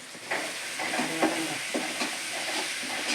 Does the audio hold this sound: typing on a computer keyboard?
no